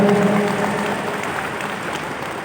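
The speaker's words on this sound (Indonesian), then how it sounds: "Tepuk tangan dulu Anda semuanya." Steady audience applause at an indoor character-building workshop, a dense wash of clapping from many hands that holds fairly loud and even for a couple of seconds.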